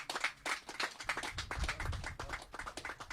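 A small audience at a school contract-signing ceremony gives the staff a round of applause: sparse, uneven hand claps that are fairly faint and close, with no voices over them.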